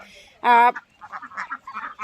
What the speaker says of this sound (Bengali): আপনাদের ভাইয়া কিন্তু হাঁসগুলোকে তাড়াচ্ছে এই যে নিচের হাঁসগুলোকে তাড়াচ্ছে